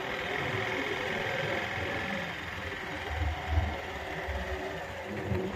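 A motorcycle engine runs at a steady idle nearby with a constant drone and a few low surges, while people talk over it.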